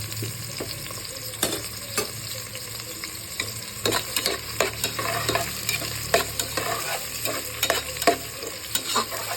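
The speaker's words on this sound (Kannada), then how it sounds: "ಚಕ್ಕೆ, ಲವಂಗ, ಬೆಳ್ಳುಳ್ಳಿ, ಒಂಚೂರು ಗೋಡಂಬಿ ಎಲ್ಲ ಹಾಕೊತಾ ಇದ್ದೀನಿ. ಚೆನ್ನಾಗಿ ನಾವು ಫ್ರೈ ಮಾಡ್ಕೊಬೇಕು." Cinnamon, cloves, garlic and a few cashews fry in a pan for quick ghee rice, a close, moderate sizzle punctuated by irregular clinks and scrapes from stirring.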